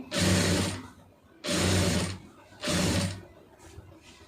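A sewing machine stitching piping onto a neckline runs in three loud bursts of rapid stitching, each lasting about a second, with short quiet pauses between them.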